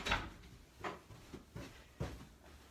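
A household door opens and shuts to let a dog inside, giving a few soft thumps and knocks spaced over a few seconds, fairly close in a quiet room.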